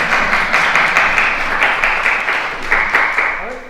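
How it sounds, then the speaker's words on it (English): Audience applause welcoming a speaker at the Cahoon Museum of Art, a steady wash of many hands clapping indoors with gentle swells, moderately loud and fading slightly at the end. "If everyone would like to give her a round of applause"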